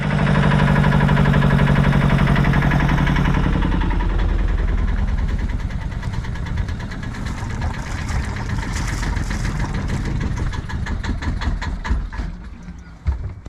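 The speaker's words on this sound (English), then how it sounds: "So time to get those put back in and get the engine fired up" A diesel engine in an engine known to have failed after a rebuild, just reassembled, cranks and fires up, then settles into a steady loud mechanical idle with a rough, knocking rhythm that fades slightly near the end.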